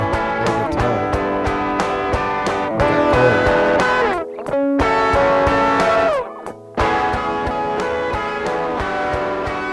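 Electric guitar with heavy distortion plays chugging, rhythmic chords with a couple of brief gaps, loud and sustained throughout.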